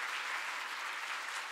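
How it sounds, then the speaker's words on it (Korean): Steady, dense clapping from a church congregation during an early-morning special prayer service, a brief unbroken burst of applause with no voices on top. "우리 한번 큰 박수로 격려해 주시기 부탁드립니다"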